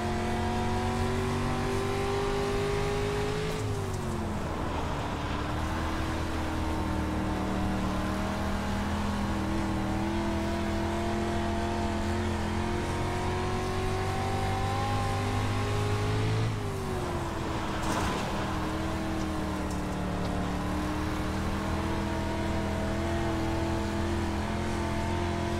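A dirt street stock race car engine in the iRacing video game drones loudly and continuously, its pitch dipping and rising twice as the throttle is lifted and reapplied, with no voices.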